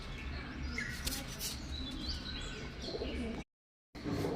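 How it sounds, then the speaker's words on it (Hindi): Pigeons on a balcony give soft cooing and chirping calls, faint and intermittent against low background noise, with a brief dropout near the end. "फिर से कबूतर आ गया।"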